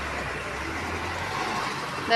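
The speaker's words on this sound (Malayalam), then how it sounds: "ബസ് പോകുന്നു ഇത് ഒറ്റപ്പാലം ബസ്സാണ്" An Ottapalam bus passes close by on a village road, a steady broadband rumble of engine and tyres that swells toward the end, with a short horn toot at the finish.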